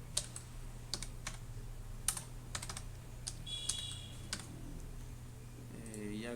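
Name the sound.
typing new values on a computer keyboard in MATLAB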